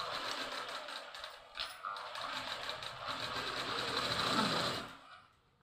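A sewing machine stitches around the neck of a frock with a steady, close whirring run that cuts off abruptly near the end.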